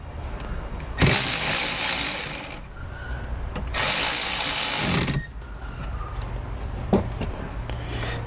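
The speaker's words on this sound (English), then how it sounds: "I'm going to grab a 10mm socket and I'm going to loosen the nut that's holding down our" A 10mm socket ratchet works loose the negative terminal nut on a vehicle battery, giving two bursts of fast ratcheting clicks, each lasting over a second, with quieter handling noise and a single sharp tap between them.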